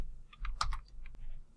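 Keys pressed on a computer keyboard, a short cluster of soft, close clicks and taps with one sharper click in the middle. The sounds are faint and there is no speech.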